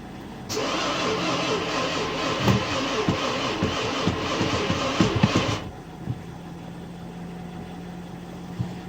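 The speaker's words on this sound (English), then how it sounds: "Crank, no start." A Nissan Infiniti M45's 4.5-liter VK45DE V8, freshly reassembled, cranks steadily for about five seconds with a rhythmic, moderately strong starter churn but never fires, then cuts off to quiet.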